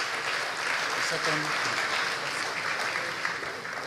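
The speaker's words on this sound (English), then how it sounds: "Let's give a resounding round of applause to the gentleman" An audience at a book review event gives a sustained round of applause for a speaker, steady dense clapping throughout with a brief spoken word over it.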